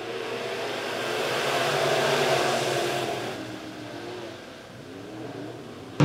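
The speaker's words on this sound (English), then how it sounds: "Flagman gives him the green. We're racing." USRA B-Modified race cars taking the green flag at Lebanon Midway Speedway, a broad engine roar that swells and then fades as the pack passes, with no talk.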